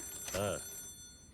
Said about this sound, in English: Hey, there's a phone call.